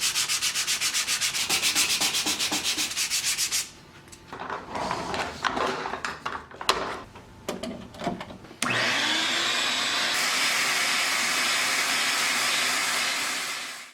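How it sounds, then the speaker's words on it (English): Steady abrasive rubbing and sanding of a wood furniture board, first as a fast back-and-forth hand-sanding scrape, then a sustained whirring hiss from a power sander close by. "I use a power sander as well as just hand sanding and going back and forth"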